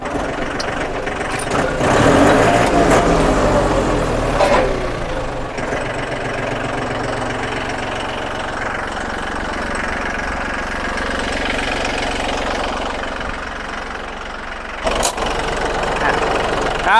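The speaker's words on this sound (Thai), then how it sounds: "เทอร์โบนะครับรอบขึ้นเร็วนะ" A Kubota or Iseki tractor's turbo diesel engine idles nearby, then rises and settles as the revs climb quickly, with a rough knocking rumble throughout.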